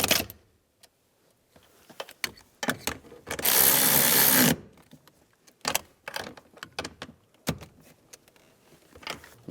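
A ratchet tightens the two bolts on the passenger-side parking brake cable of a 1998-2010 Volkswagen Beetle, heard as close bursts of sharp metallic clicks around a sustained one-second run of ratcheting midway.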